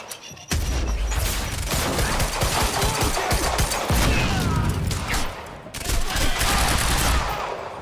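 Dense bursts of automatic gunfire rattle almost continuously through a firefight in Quantum Break, loud and close, with brief gaps between volleys.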